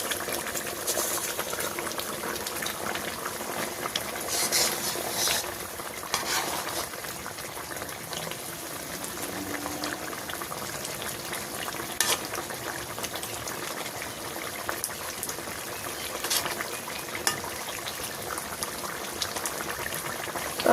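Fish curry bubbling steadily in a pot in a village kitchen, a continuous close, dense boil with fine popping and gurgling that never lets up.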